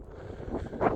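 Wind rushes across the rooftop terrace of the Kulmino water tower in Vendée, a steady low buffeting roar close on the microphone that swells into a stronger gust near the end of the brief moment.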